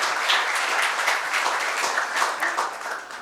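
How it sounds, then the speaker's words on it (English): Audience applause for a Rotary Club at a student get-together, a loud, continuous wash of many hands clapping throughout, slowly thinning toward the end. "A big round of applause for entire Rotary Club of Mulund."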